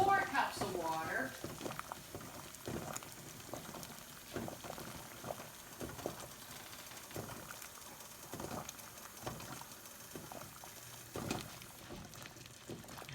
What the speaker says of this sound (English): It's been 2 hours that the can has been in the boiling water.